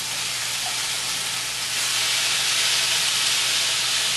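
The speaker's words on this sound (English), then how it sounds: "They're going to sizzle and stink up the whole house." Steady, dense sizzling of potatoes and onions frying in bacon grease in a hot pan, a constant hiss that swells slightly louder midway, with no talking.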